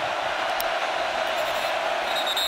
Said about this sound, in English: And that crowd noise is real.